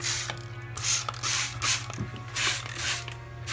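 A trigger spray bottle of sanitizer mists a yeast packet while brewing a Corona clone beer: several short hissing spritzes with mechanical trigger clicks, close and fairly loud, with no talking.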